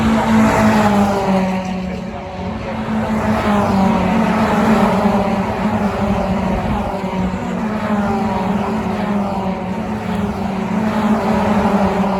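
BTCC touring cars race toward the finish line at Brands Hatch, engines roaring loud and sustained with rising and falling pitch as several cars pass close by, no voices over the noise.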